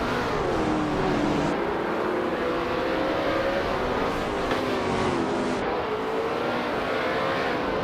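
Race cars accelerating off the line at the start of a race, engines rising in pitch together in a dense, loud roar with several overlapping revving tones.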